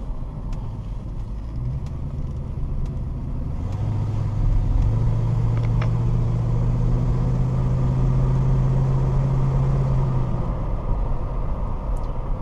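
A red 1969 Mercury Cougar on a test drive, its engine droning steadily from inside the car, building in pitch and loudness as it gets up to speed along the road, no talking.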